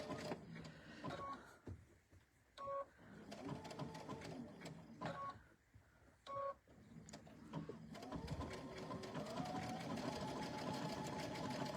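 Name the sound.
sewing machine stitching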